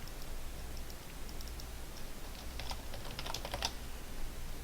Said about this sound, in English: then I type prod ID and I type order ID